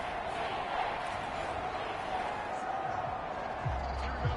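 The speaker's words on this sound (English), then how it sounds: "This crowd turning up the decibel level." Broadband roar of a stadium crowd in a Madden NFL video game, dense and steady throughout, with low thumping hits near the end and possible faint commentary underneath.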